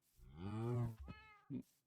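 A Minecraft cat meows close by in a hardcore survival game: one long drawn-out meow, then two short ones, fairly quiet against a silent background.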